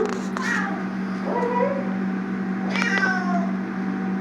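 A cat meows twice, drawn-out and plaintive, separated by a short pause, over a steady low electrical hum.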